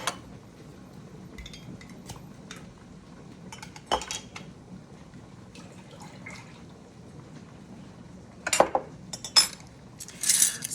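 Glass jelly jars opened and the unset jelly poured back into a pot, quiet faint clinks of lids and utensils, then a cluster of louder metallic clatters and scrapes near the end.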